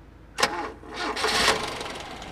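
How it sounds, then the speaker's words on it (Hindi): A 1982 Toyota Corolla KE70 starts from cold with a brief crank that catches into a rough, slightly shaky engine note before settling toward idle, close and with no one talking. "ये गाड़ी मिनिमल सेल्फ पे स्टार्ट होती है, ये कोल्ड स्टार्ट था"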